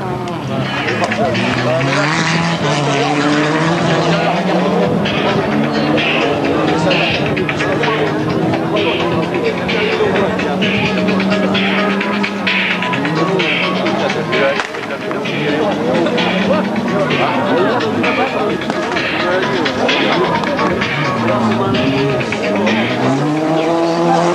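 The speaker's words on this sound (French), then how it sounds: "voilà la BM qui prend l'extérieur" A BMW rally car drifts around an autocross track at a national race in Bellegarde, its engine roaring steadily with tire squeal and skidding, loud and close throughout, under continuous commentary.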